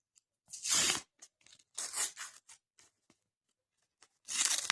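A paper surprise packet crackles and rips in several loud, close bursts, with small crinkles between them and a final sharp tear.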